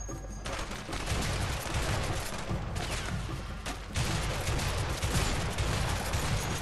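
M16 rifle gunfire in the action game A Way Out: sustained, loud automatic shooting in dense overlapping bursts with heavy booming low end, running steadily through the whole stretch with no talk.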